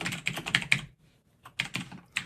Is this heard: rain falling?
no